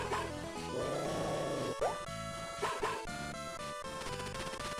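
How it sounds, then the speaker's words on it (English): The dog Boney from the video game Mother 3 barks in a short run of chiptune-style yips over busy, constant game music, several quick barks in succession. "Bark, bark, bark, bark!"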